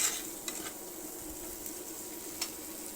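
Spice masala sautéing in oil until the oil separates, a faint steady sizzle with a few soft stirring scrapes, no voices.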